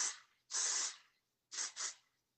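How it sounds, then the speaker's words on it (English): Texturizing hair spray aerosol sprayed into lifted hair, three close hissing bursts, one long and then a quick double spritz, with quiet gaps between. "Lift the hair up and spray it into it."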